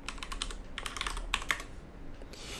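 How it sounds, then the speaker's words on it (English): Rapid keystrokes on a computer keyboard as a new password is typed, a close, quiet burst of clicks that thins out into brief silence before a final tap. "then type in the new password for that particular user"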